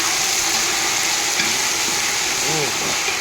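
Drumstick and tomato pieces fry with curry leaves in a pan, a loud continuous sizzle and crackle close up, with a voice talking briefly underneath.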